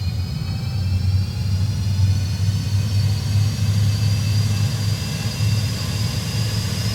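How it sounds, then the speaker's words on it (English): A steady low engine rumble with a faint high whine above it, holding constant and fairly loud throughout, as an Airbus A320-200's auxiliary power unit starts up in a video game. "You can hear the APU starting."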